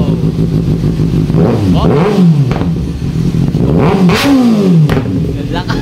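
A Kawasaki ZX-6R-style CX6R motorcycle fitted with an Acrophobic exhaust revs hard in a sound check, with two rising-and-falling throttle blips over a loud, steady engine drone; a voice exclaims briefly.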